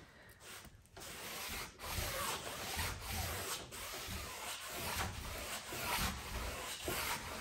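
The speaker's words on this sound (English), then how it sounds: "I'm going to get my big brush and just wet it and just brush it over to try and flatten the wave." A large wet paintbrush dabs and sweeps across canvas, blending an ocean wave with soft, steady rubbing strokes that continue close up and fairly faint, with no talking.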